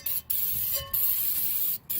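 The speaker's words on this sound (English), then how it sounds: "Just use some brake clean." Aerosol brake cleaner sprays in steady hissing bursts while parts on a Blizzard snowplow are cleaned during a filter and seal change, with three short pauses breaking the continuous close spray.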